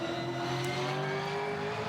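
A Supercars race car climbs the hill at the Sydney 500 street race, its engine sustaining a loud, continuous high-revving howl with a rising pitch and no voices over it.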